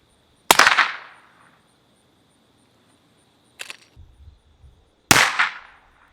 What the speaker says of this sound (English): 44 mag definitely has a little bit more of a pop and also a little bit more kick